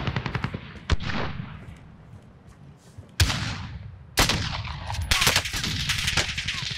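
Bursts of rapid automatic gunfire in Call of Duty: Warzone, close and loud, with sharp single shots and short volleys separated by brief pauses.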